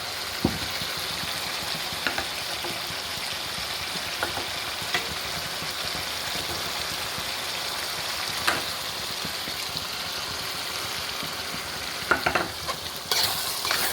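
Water goes into a curry leaf paste in a home-style green chicken gravy, which is then stirred. A steady close sizzle fills the clip, with occasional light scrapes and taps of a spoon in the pan.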